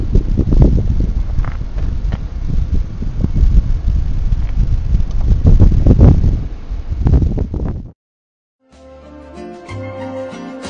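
Light wind gusting by the shore of Llyn Brenig, a lake in North Wales, rumbling steadily and close across the microphone for about eight seconds before dropping away, followed by a brief quieter tonal passage.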